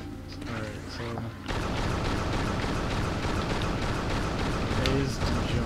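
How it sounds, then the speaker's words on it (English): Grenade going off in the video game Unreal 2 Awakening: a sudden loud blast gives way to a sustained, roaring rumble, with a voice talking over it at the start. "This is the grenade."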